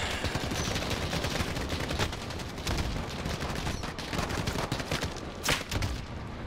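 Dense, continuous gunfire in Call of Duty, rapid automatic bursts and scattered heavier shots layered over one another, loud and sustained throughout with no pauses.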